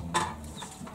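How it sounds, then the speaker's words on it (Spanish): A hen on a farm gives a short, quick burst of clucking, close by and moderately loud, with faint background noise and no talking. "se tiene una gallina hermosa ahí"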